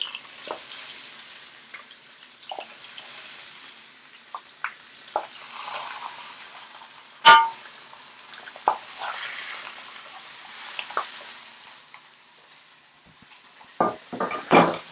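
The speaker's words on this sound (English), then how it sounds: "We're gonna put them into the frying pan" Quiet sizzling of lamb shanks frying in a pan, with scattered clinks and scrapes of utensils, one sharper knock partway through.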